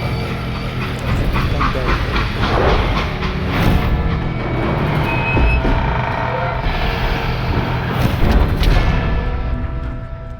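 Freight train rolling along in the Western shooter Call of Juarez: Gunslinger, a steady dense rumble with clattering wheel and car noise running throughout the clip, loud and continuous with no voices over it.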